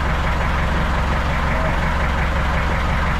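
A boat's inboard engine runs steadily at idle, a loud, continuous low rumble with a constant mechanical drone and no change in pace.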